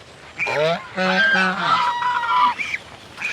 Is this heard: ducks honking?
yes